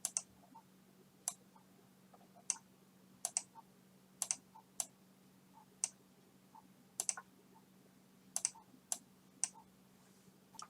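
Quiet, sharp computer mouse clicks sound alone at irregular intervals, some in quick doubles, over a faint steady electrical hum with no voices.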